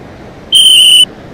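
A red sports whistle used by a physical education teacher sounds one loud, shrill, steady blast lasting about half a second, alone against a quiet background.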